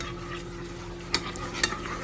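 Kraft macaroni and cheese being stirred in a pot, a soft scraping swish with a few brief clinks of utensil against metal, close and steady under a low hum.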